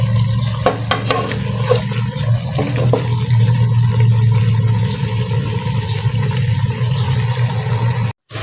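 Tuna sautéed with string beans and mustard greens in a pan, giving a steady, loud sizzle with stirring scrapes near the start that runs evenly, then cuts off abruptly at the end.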